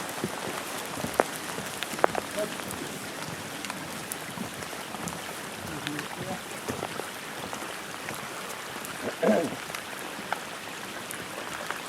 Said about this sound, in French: Là, le vent est tombé, on a la pluie.